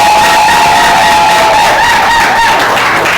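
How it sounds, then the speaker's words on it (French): Wedding guests acclaiming the bride at a civil ceremony in Tonla, Côte d'Ivoire, a loud, continuous crowd roar with high ululating cries and shouts, sustained and close throughout. "Blanc Mireille Quadio, désormais épouse Gaboui que nous recevons par les acclamations."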